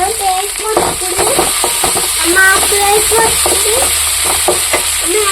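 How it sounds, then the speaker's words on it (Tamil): Chopped tomato going into a pan of frying onions for a Tamil chicken curry, giving a continuous loud sizzle and hiss with a scraping spatula stirring over it, while a voice speaks over the cooking and occasional tonal notes rise briefly above the hiss. "இந்த ஸ்டேஜில் தக்காளி பழம் போட்டுக்கலாம். முழுசாக ஒரு பழம் அரிஞ்சு போட்டுக்கலாம்"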